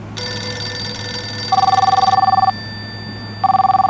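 A telephone rings loudly and close, with electronic trilling bursts separated by a short pause, preceded by a brief high tone.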